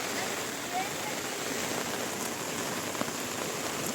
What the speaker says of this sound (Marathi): पाऊस जोराचा चालू झाला आहे आता. आणि आपण छत्रीमध्ये लपलो इकडं मस्त.